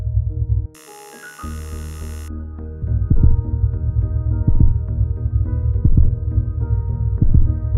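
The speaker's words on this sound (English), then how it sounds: "we can hear the sound of a human heart start to beat" A human heartbeat sounds inside a house in the Minecraft video game as a steady, repeating low thump under a droning background hum. A brief burst of static comes near the start.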